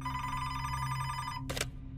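A telephone in a house gives one short, bright ring that cuts in near the end over a steady, humming background.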